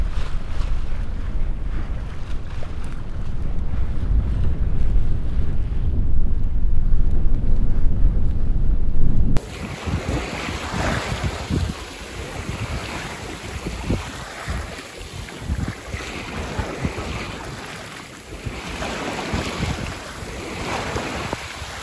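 Sailboat under way between islands, wind rushing across the microphone and waves washing steadily against the hull, loud and continuous, with a sudden shift midway to a brighter, splashier mix of spray and surf.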